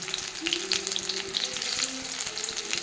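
Pieces of jackfruit coated in masala deep-fry in oil, giving a busy, bubbling sizzle with scattered pops and crackles throughout.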